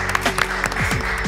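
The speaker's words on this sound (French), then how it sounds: "C'est fini, on l'applaudit." Brief applause breaks out for a contestant at the end of a French football quiz show final. Dense clapping is heard for about a second, while voices talk over it.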